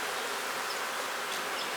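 Dense, continuous buzzing of many honeybees close by at an open hive, a steady hum with no talking.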